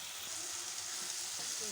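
Softened tomato masala being stirred with a spoon as it fries in a pan, a steady close sizzle with soft scraping movements underneath, no voices.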